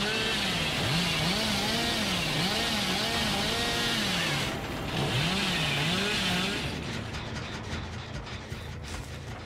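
Chainsaw revving in the video game Dead by Daylight, a loud, wavering engine whine that rises and falls over a dense, steady game background, then settles into rougher rattling and clicks toward the end.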